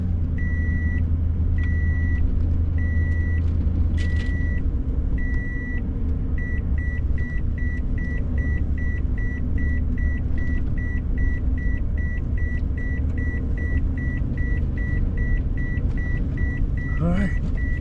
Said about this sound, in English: Don't mind the beeping noise.